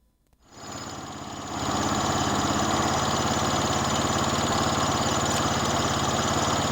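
A tractor engine near a village hamlet by the forest starts up, then settles into a loud, steady, close-up rumbling drone with no voices.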